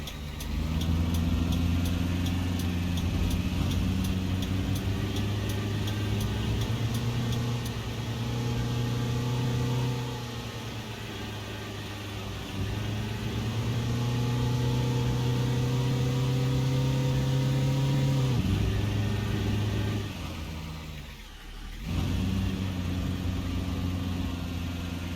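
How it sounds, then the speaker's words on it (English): The minibus engine in the Fernbus driving game hums at a low, steady idle, droning continuously and fairly quietly with slight changes in pitch and one brief dip, and no voices are heard. "the engine sounds almost silent when you take your, well, in this case my finger off the accelerator"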